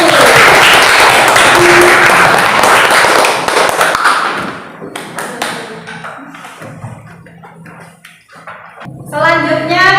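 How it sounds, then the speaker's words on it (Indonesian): A classroom audience claps for the first student presentation group, a dense burst of applause that fills the first few seconds and then thins into scattered claps and room noise. "Kita beri aplaus untuk kelompok 1."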